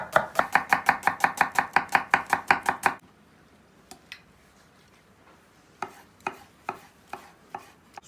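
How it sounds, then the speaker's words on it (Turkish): Brisk knife chopping of an onion on a board, about fifteen quick even strokes, then a pause and a few slower, scattered cuts. "Patateslerimiz haşlanırken soğanını doğrayalım,"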